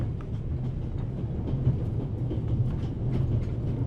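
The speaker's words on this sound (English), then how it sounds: "The train noises are way too loud." Train noise from the video game The Raven Remastered, set on a train crossing the Swiss Alps: a steady, loud, low rumbling roll with faint rhythmic rattling, continuous and without talk.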